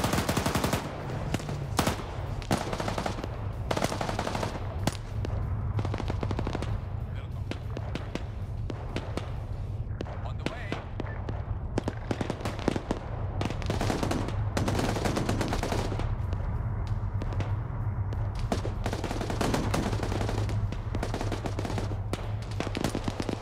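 Steady, dense gunfire in a military video game, rapid shots and bursts packed together without pause over a constant low rumble, with voices talking over the battle at times.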